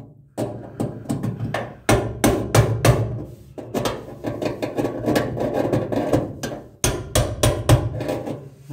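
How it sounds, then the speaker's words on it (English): A hammer taps a brass punch to tighten a vehicle fuel sending unit, giving quick bursts of sharp metallic strikes in uneven clusters with short pauses between groups, close and loud. "What you got to do is tighten this thing up using a brass punch."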